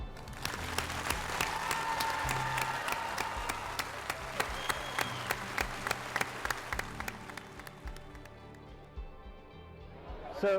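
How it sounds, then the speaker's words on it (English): A crowd applauds graduates of the Mountaineer Challenge Academy, a continuous wash of clapping with sharp individual claps standing out, gradually thinning and fading toward the end, with a voice talking over it early on. "Will the crowd please join me with a great applause for them?"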